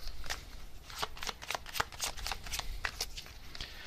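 Tarot cards riffle and snap in quick, crisp bursts during a reading. The papery flicks repeat irregularly for several seconds, close and fairly loud, with no talking.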